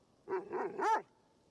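A dog barks in Assassin's Creed Shadows, a short series of three close yips rising in pitch, the last one sharp and whiny, heard alone against a quiet background.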